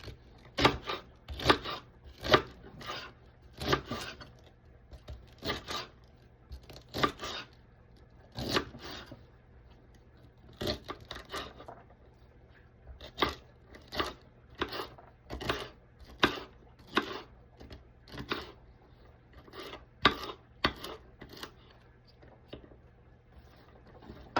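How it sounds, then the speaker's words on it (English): A knife cuts collard green stems into tiny pieces on a board: close, crisp chops in quick bursts of several strokes with short pauses between. "when I get to the stems, I cut them super small so that they can almost be like a kiss to the collard green"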